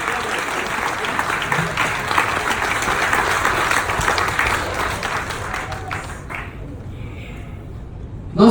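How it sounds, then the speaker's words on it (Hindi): An audience applauding at a business seminar, dense sustained clapping from a large crowd for several seconds before fading out abruptly near the end. "एक बार जबरदस्त ताली चाहूंगा"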